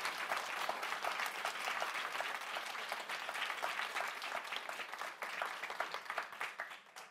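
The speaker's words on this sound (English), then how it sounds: "I think we want to do a massive round of applause for these four women." An audience at a Lean In Ireland event gives a round of applause for four women panelists: dense, even clapping, fairly quiet and distant, that holds steady for several seconds before tapering slightly.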